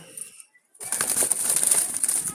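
Caged Jalali pigeons flutter and shuffle with a burst of wing flapping and rustling after a brief quiet moment, close by and fairly loud.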